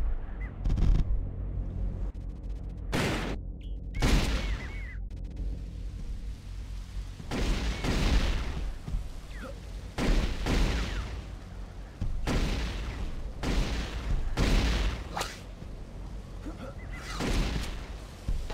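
Firestorm cannon fired in a video game, a string of loud booming blasts at irregular intervals, each a sharp broadband burst with a short decaying tail over a steady low rumble.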